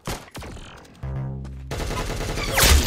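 Rapid gunfire bursts from the Roblox shooter Arsenal, several quick volleys with a sustained low drone in the middle and a dense chattering run of shots toward the end, loud and close.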